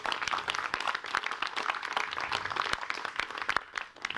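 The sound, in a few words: audience applause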